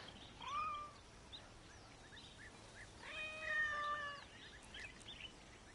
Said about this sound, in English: Look, I'll pet the cats.